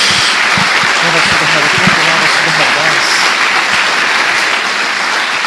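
A church congregation breaks into loud, sustained applause that fills the room, with a few voices calling out faintly underneath the steady clapping.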